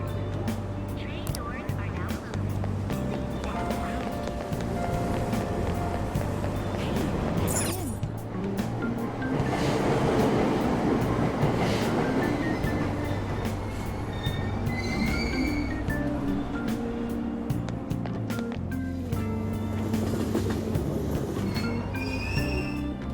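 A subway train in the video game Persona 5 Royal pulls away from a station platform, with loud rumbling wheels and squealing rails that persist throughout, along with voices in the background.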